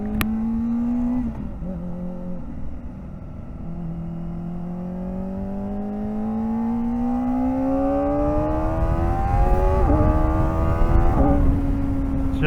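A Kawasaki ZX-4RR motorcycle revving up through the gears with a high, rising engine whine and quick shifts, loud and close under heavy wind rush, no talking.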